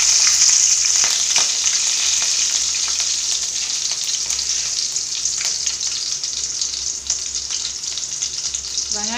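Green chillies sizzle and crackle in hot oil with mustard seeds, a steady close frying hiss that runs continuously throughout, with occasional sharper pops.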